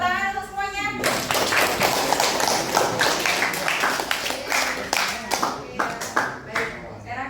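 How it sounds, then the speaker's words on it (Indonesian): A classroom of students claps after a short spoken cue. The clapping is brisk and close, then breaks into a few scattered, rhythmic final claps with children's voices in between. "Tepuk tangan untuk semuanya"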